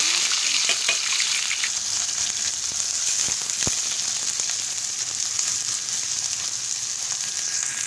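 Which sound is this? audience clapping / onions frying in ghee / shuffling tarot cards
onions frying in ghee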